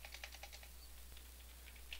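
Faint, close tapping on a computer keyboard, a quick run of light keystrokes in an even rhythm, pausing briefly before a few more taps, over a low steady hum.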